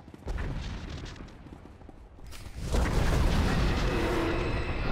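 Deep rumbling explosions in the video game Star Wars: The Old Republic, a burst early on and a louder sustained blast after a brief lull, close and heavy with no speech.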